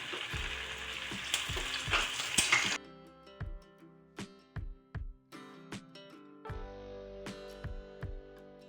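Tilapia fish fries in a pan with a loud, dense sizzle for the first few seconds, then turns to softer crackling broken by a series of distinct metallic taps and clinks from a utensil.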